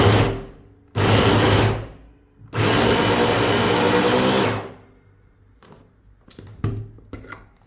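Electric vegetable chopper motor whirring loudly in two bursts, about one second and then two seconds long, chopping vegetables for thoran, followed by quieter clicks and clatter of the chopper being handled.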